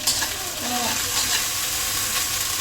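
Onions, nuts and garlic fry in a hot pan, giving a loud, continuous close-up sizzle with brief scraping stirs of a utensil running underneath.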